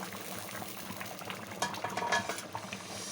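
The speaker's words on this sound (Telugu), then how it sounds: "చేపల కూర బాగా ఉడుకుతుందండి." Fish curry (Telugu-style tamarind fish stew) boiling in a pot on high flame, a steady close bubbling and simmering with faint stirring clinks, no talk.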